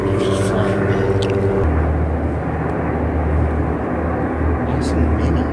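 Helicopters flying overhead, a loud continuous low rotor and engine drone with a tonal hum that shifts partway through, while people talk underneath.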